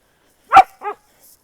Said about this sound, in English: I have dogs on my feet.